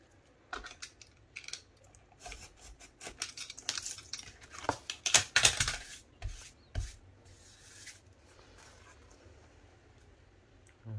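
Scissors cutting through cardboard for a recycled scrapbooking storage box, a burst of close crunchy snips and rasps building in the middle then fading to quiet handling.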